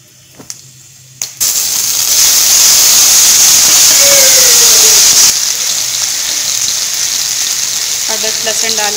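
Cumin seeds dropped into 2 to 3 tablespoons of hot oil in a kadhai burst into a loud, steady sizzle after a couple of clattering knocks, the hiss easing slightly later as a voice speaks over it.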